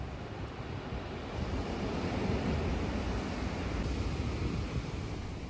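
Sea waves surge against the shore along the Promenade des Anglais in Nice on a sunny, windy day, a continuous rushing roar of surf and spray with wind noise on the microphone.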